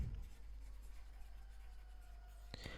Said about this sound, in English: let me write the question